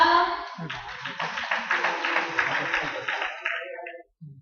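Campers at a middle school camp clap together in a close, lively burst of steady, rhythmic claps lasting several seconds, then stop abruptly with a voice underneath.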